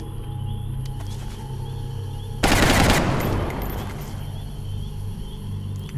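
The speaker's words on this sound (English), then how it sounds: "Taking fire over here." A sudden loud burst of automatic gunfire in the XCOM Long War strategy game, about half a second of rapid shots that trail off into a fading echo over a background of game ambience and insect-like chirping.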